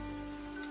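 Steady in-game rain from the video game Evoland 2, a soft continuous hiss of rainfall on surfaces, faint and even throughout the short moment with no speech.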